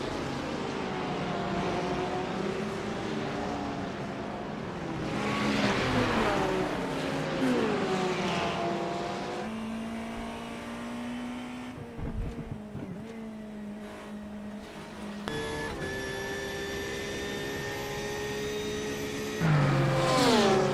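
GTP and other race cars running at Road America in a racing video game, engines droning and pitching up and down as several cars pass, with a steady layered roar through the whole stretch.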